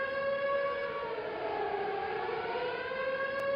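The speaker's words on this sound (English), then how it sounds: "we should hear some sirens" A civil defense siren wails steadily in the distance, holding a sustained tone that slowly dips and shifts in pitch.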